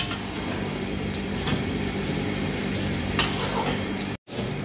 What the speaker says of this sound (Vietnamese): bây giờ chuối mình chiên được màu đẹp rồi, cứng chuối rồi, mình sẽ vớt ra nhé